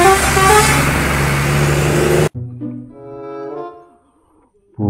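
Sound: bus passing with horn

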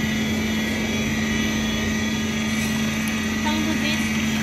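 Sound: laboratory bead mill running

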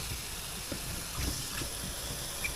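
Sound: boiling bamboo shoots in a pot

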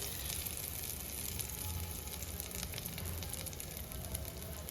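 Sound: hot tempering poured into Kerala papaya and chembu curry, sizzling

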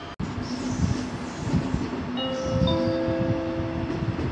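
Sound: ICE train arriving at platform 6, Essen main station

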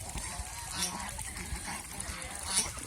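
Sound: geese honking

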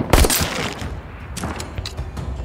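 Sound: shotgun firing in video game Saints & Sinners

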